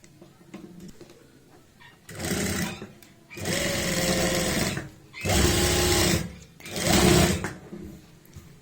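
Sewing machine stitching a zip onto a pair of pants, heard in four separate bursts of fast, close mechanical whirring with short quiet gaps between them.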